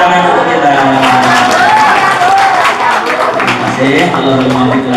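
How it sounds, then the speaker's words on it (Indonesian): Applause from a crowd at a Maulid Nabi religious gathering for TPA students at Nurul Barokah mosque, steady and loud for several seconds, mixed with murmuring voices and cheering. "Tepuk tangan untuk kita."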